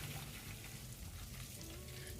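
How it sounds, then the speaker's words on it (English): Butter melting into ghee in a vessel set over a heavy pan on low heat crackles and sizzles steadily, a dense continuous fizz with faint low rumble underneath. "You can hear the crackling now."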